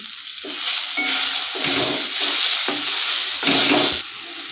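Tomatoes sautéed in a pan until soft for a sprouted horse gram curry, heard up close as a steady sizzle broken by repeated scraping stir strokes, with no one talking.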